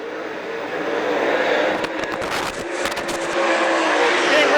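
Race cars lap Bedford Speedway, their engines a loud continuous roar blended with crowd and track noise and a passing surge midway.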